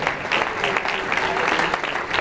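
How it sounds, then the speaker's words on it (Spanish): A church congregation claps together in a dense, even burst of applause that fills the room. A few voices sound faintly beneath it. "Le damos un aplauso a los hermanos de hoy."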